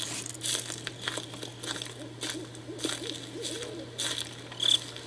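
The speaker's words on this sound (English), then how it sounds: "The classic owl sound." An owl hoots in the dark woods of the horror game Slender: The Eight Pages, a soft repeated call over a steady low drone, with crunchy footstep-like rustling and a few faint clicks.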